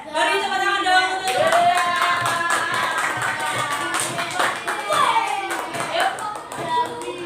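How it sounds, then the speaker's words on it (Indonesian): A classroom audience of students claps for a role-play group presentation, with scattered hand claps and voices mixed in over several seconds. "beri tepuk tangan dong"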